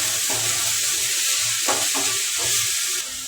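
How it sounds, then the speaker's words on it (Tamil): Onion, green chilli, tomato, curry leaves and coriander sautéing in a pan for masala idli, steady sizzle with rhythmic low scraping strokes of a spatula stirring, close and loud. "கருவேப்பிலை கொத்தமல்லி எல்லாம் பொடியாக சேர்த்துக்கலாம் வதக்கி விட்டுக்கலாம்"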